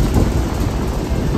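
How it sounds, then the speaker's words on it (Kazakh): Strong wind buffets the microphone at the Istanbul seaside near the Maiden's Tower on a rainy day, a steady low rumbling roar with no pauses. "Мына жерде совсем жел болып тұр"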